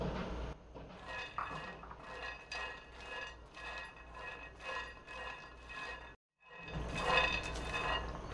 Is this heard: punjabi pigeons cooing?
no